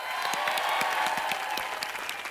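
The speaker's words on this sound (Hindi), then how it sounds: "जोरदार तालियां हो जाए।" A studio audience on the set of a Hindi TV comedy show bursts into dense, steady applause that stays loud and full for a couple of seconds without a break.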